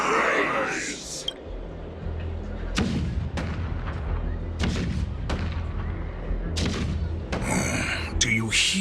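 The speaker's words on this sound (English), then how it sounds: "The rumble of the cannons." Cannon fire booming in the video game Honkai: Star Rail, a series of heavy distant blasts and thuds at irregular intervals, some close together, rumbling over a low background with speech present.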